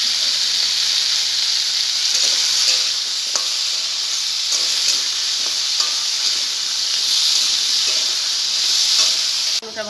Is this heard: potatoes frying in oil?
yes